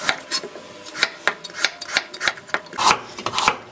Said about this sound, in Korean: 당근 하나는 채를 썰어주세요.